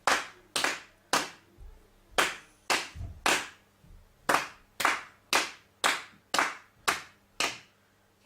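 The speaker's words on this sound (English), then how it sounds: "we'll clap the rhythm together for the next one" In a beginner piano lesson, hands clap a rhythm together as a series of crisp, close claps, roughly a dozen sharp strokes in an even pulse with small gaps between them.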